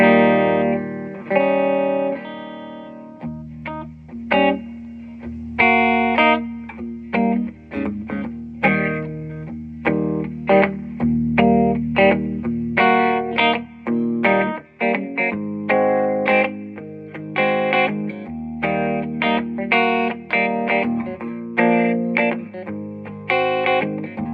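An electric guitar on the bridge pickup plays through a loud 30-watt amp with built-in spring reverb, a continuous run of distorted notes and chords lasting about twenty-four seconds, close and steady with no talking.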